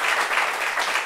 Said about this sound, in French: On peut applaudir notre ami.